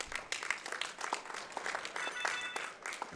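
Audience applause at an ESA TwitchCon 2019 speedrun event of Castlevania: Symphony of the Night, a fairly faint, steady patter of many hands clapping for about three seconds with no talking over it.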